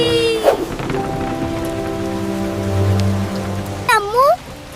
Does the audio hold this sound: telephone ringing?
no